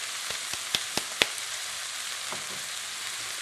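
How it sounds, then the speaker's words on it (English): Onions fry in a pan with a steady, close hiss of sizzling oil, broken by a few sharp pops and crackles early on. "I'm going to fry these onions up until they're brown and caramelized"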